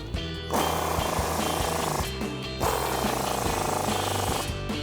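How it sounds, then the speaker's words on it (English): Lower strut nuts on a 2019–2023 Ford Ranger are tightened with an 18mm socket during a front leveling kit install. A power tool rattles loudly in two sustained close-up runs separated by a short break. "We're gonna start with an 18mm socket for our lower strut nuts."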